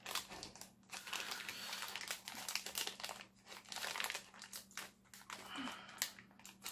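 A plastic sachet from a diamond painting kit is opened and crinkled during an unboxing, with close, continuous rustling and crackling in irregular bursts and no talk.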